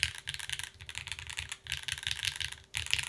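Fast, close keystrokes on a Pangea Mini 60% mechanical keyboard with a deep-leaning sound, clattering in a dense, steady stream broken by a brief pause, with no voices.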